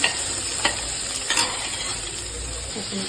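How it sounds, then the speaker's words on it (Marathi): Chillies and curry leaves fry in a pan and are stirred together, a steady sizzle running throughout with a few sharp scrapes and clinks of the spoon against the pan, loud and close with no talking. "मिरची चांगली भाजली गेलेली आहे. कढीपत्ता पण चांगला भाजलेला आहे. आणि सगळं मिक्स करून घेऊया."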